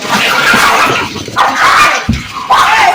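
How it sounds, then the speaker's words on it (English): Dogs scuffling and fighting, with close, loud overlapping barks, yips, growls and whimpers in quick, chaotic bursts. "Whew, dog fight. Dog fight."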